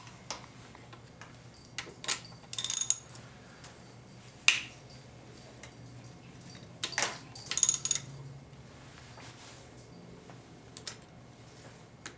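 Wrench loosening bolts on a 4L60E automatic transmission valve body during a rebuild, faint clicks and ratcheting ticks in short bursts with quiet gaps, close by in a quiet workshop.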